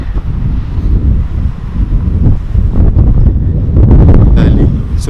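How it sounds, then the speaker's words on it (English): Gusty wind buffets an outdoor microphone on a drizzly morning, a steady low rumble that swells and eases continuously for several seconds, loud and close with no clear voices. "Windy and drizzling."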